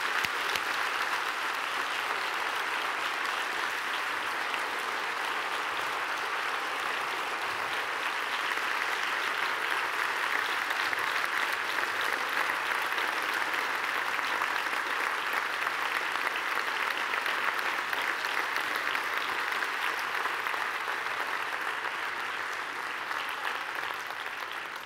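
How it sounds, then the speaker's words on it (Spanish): A large audience at the opening of a cancer and families congress applauds itself in a long, sustained, even wash of clapping that stays steady and fairly loud throughout. "hoy quiero que os deis el aplauso vosotros mismos"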